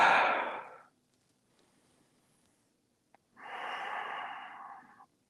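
Two long, breathy exhales during a yoga session, each loud and close, separated by a few seconds of near silence.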